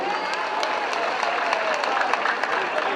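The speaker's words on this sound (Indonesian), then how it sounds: "Sekali lagi tepuk tangan untuk teman-teman disabilitas Jawa Timur." Crowd applauding at a political gathering in Surabaya with disability groups present, a dense, steady wash of many hands clapping together, with scattered cheers and crowd noise.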